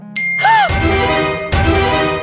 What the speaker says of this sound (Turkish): bir anda telefonuna gelen bildirim sesiyle irkiliyorsun